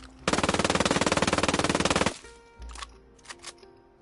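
A video game gun fires a rapid, loud, evenly spaced automatic burst of roughly twenty-five shots lasting about two seconds, then a brief reload of mechanical clicks and clacks follows.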